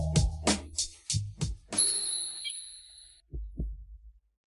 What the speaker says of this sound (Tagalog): Bakit sumasabay ang tibok ng puso ko sa kanya?